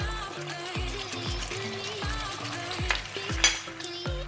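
Green pepper sizzles in a hot pan with chili paste and chicken during a sweet chili stir-fry, a steady close frying hiss broken by regular scraping strokes of a utensil stirring the food.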